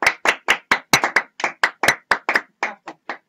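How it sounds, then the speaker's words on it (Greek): Clear, separate hand claps, about a dozen of them in a fairly steady rhythm, close and sharp, likely from a few people in a radio studio, with nothing else heard between them. "Ένα χειροκρότημα γι' αυτό"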